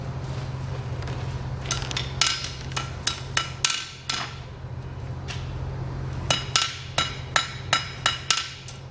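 A hammer strikes metal during fire welding at a forge, sharp ringing blows in two quick rhythmic series separated by a brief pause, over a steady low hum.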